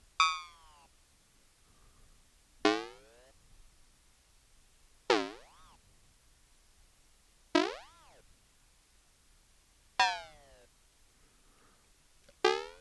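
Five sliding, bell-like ring-modulated synth tones from a Nord Micro Modular, with a metallic warble, each sweeping in pitch and fading, spaced evenly about every two and a half seconds against near silence.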